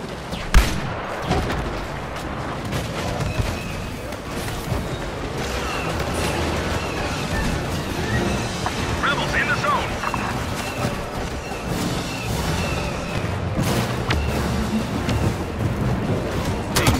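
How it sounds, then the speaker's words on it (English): Airstrike explosions in a combat video game: a sustained barrage of rumbling blasts and crackling gunfire-like bursts, loud and dense throughout, with a sharp impact near the start. "Real airstrike incoming."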